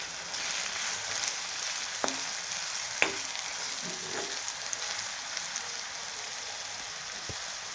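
A tadka for dahi tadka sautéing in a pan with salt added, giving a constant hissing sizzle throughout, with a few faint spoon taps, close and even in level.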